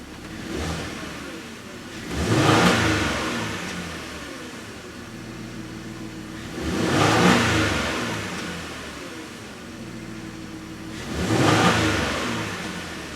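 After a throttle body cleaning, a car engine runs close by with a steady hum, and three evenly spaced swells rise and fall over it, each about four to five seconds apart.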